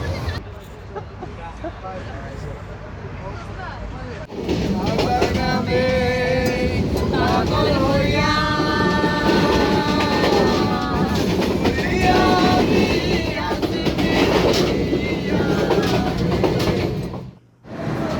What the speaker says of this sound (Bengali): তারপর আমরা ট্রেনের জন্য অপেক্ষা করতে থাকি।